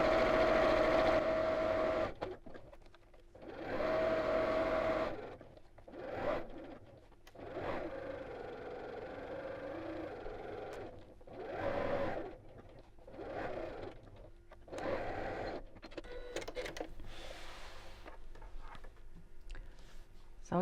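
A sewing machine stitches the seam of a fabric coin purse in short bursts of fast, whirring mechanical chatter, separated by pauses, fairly close and moderately quiet.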